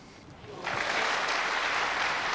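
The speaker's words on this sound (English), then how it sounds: "The crowd have gone ecstatic" A snooker crowd bursts into loud, sustained applause for an Alex Higgins pot, the dense clapping swelling suddenly from a quieter hall and holding steady.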